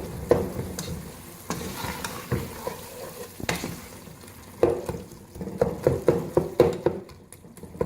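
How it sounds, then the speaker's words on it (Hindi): Cooked pumpkin curry is lightly mashed and pressed in a pan, giving a run of close, wet squelching thumps and scrapes over a low simmering sizzle. "इसको हल्का हल्का मसलेंगे।"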